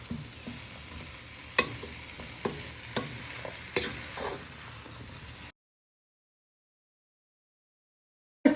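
Onions soften with a steady sizzle in a pan while a utensil stirs them, scraping clicks sounding every second or so, close and fairly loud; the sound cuts to silence about halfway, then returns briefly at the very end.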